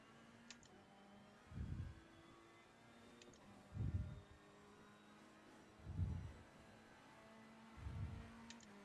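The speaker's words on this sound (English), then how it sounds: "Somebody's put the 1998 BMW 320i on." A 1998 BMW 320i race car in Assetto Corsa Competizione at Silverstone, heard as faint, distant engine surges that swell and fade about every two seconds over a low steady hum.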